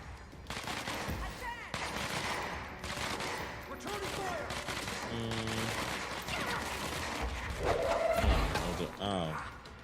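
Bursts of gunfire and chaotic combat effects fill a firefight in the game Control, dense and continuous with crashes mixed in, while a voice talks underneath.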